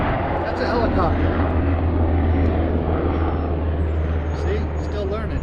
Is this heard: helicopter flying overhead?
yes